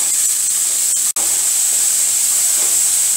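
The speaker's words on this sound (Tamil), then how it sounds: "இந்த வெங்காயம் வதக்கிறதுக்கு கொஞ்சம் உப்பு போடுறேன்" Onions sautéing with salt in a pan while cooking a snake gourd stir-fry, giving a steady, loud hiss of sizzling that runs throughout with one brief dropout near the start.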